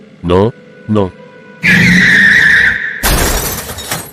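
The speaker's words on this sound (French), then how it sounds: "il y a un virage serré juste devant. Fais quelque chose, Thomas. Ralentis, freine, on va se tuer" A car skids through a sharp bend with a long tire screech, then a loud crash with shattering impact noise; two short voiced shouts come just before.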